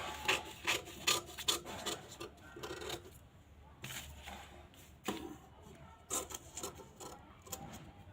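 Scissors snip through fabric while cutting out a size 36 katori blouse, giving a run of close, dry rasping cuts in short bursts with brief pauses between them.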